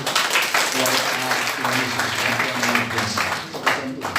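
Church congregation applause during a sermon, a dense, steady wash of clapping with a low sustained tone, likely keyboard or organ, humming underneath throughout.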